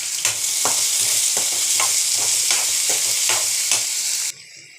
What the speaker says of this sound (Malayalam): ഗ്യാസ് ഓണാക്കി എണ്ണ അടുപ്പേൽ വെച്ച് ഇന്ന് സബോളയും കിഴങ്ങൊക്കെ ഇതാണ്.